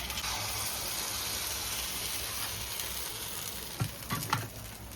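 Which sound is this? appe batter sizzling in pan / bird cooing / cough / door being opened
appe batter sizzling in pan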